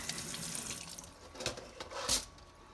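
Tumbled rocks from Crater of Diamonds State Park rinsed under a running tap, with water splashing steadily into a sink and brief louder gushes as the stones are moved through the stream.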